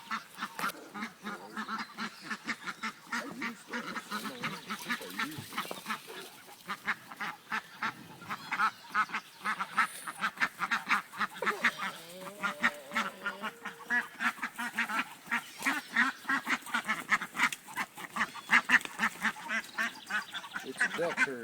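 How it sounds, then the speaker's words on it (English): A small flock of ducks is herded along and quacks repeatedly close by, the honking calls coming in irregular bursts with rustling underfoot throughout. "It's a duck herd."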